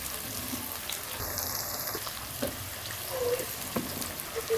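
Lauki (bottle gourd) frying in oil on a stovetop, a soft continuous sizzle with a few clinks and stirring sounds, plus a brief high tone partway through.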